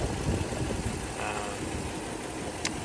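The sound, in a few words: 2004 Toyota Land Cruiser 2UZ engine idling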